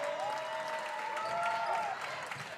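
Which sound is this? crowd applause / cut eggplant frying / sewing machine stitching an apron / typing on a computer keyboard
crowd applause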